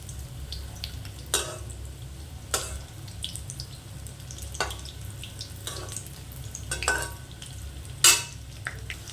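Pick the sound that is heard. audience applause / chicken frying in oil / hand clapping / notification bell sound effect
chicken frying in oil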